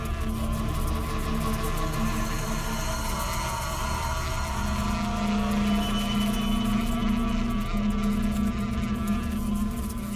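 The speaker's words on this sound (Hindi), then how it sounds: "और मधुमक्खी के छत्ते को छेड़ना" Bees hum around a beehive in a steady, dense drone that fills the whole stretch, with a low rumble underneath.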